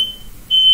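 A smoke alarm sounds a loud, piercing electronic beep. The tone cuts out for a moment and then resumes at full strength.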